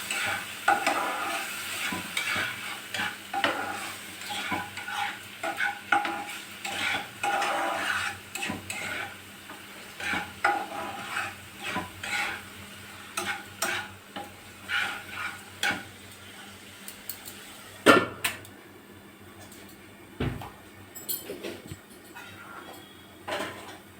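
A cauliflower mixture being sautéed in a pan while cooking dim bhapa, with a soft steady sizzle under repeated scraping and stirring strokes of a spatula against the metal, close by and with no talking.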